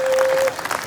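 Audience clapping at a Hindi comedy poetry gathering, a dense burst of applause that fades after half a second into scattered claps, with a steady tone running beneath the first half.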